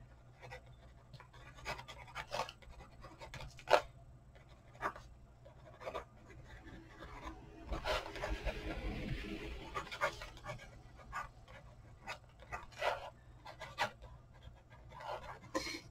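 Correction pen squeezed and dragged across paper while art journaling, a series of soft scratchy strokes coming in short irregular bursts, close and quiet, with one longer rubbing stroke midway.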